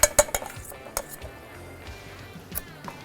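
A fork presses around the crust edge of a smoked pot pie in its dish, giving a handful of sharp metallic clinks and taps, bunched at the start and then sparser, against a quiet background.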